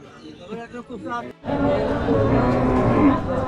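A cow moos loudly and at length amid a noisy crowd at a cattle market in Khiratala, Bijoynagar, Brahmanbaria, Bangladesh, with people talking nearby before the call begins.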